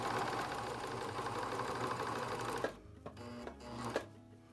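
A serger machine stitches steadily along the edge of a cloth napkin, a loud continuous motor whir for most of the run, then stopping abruptly and leaving a few faint clicks and handling noises.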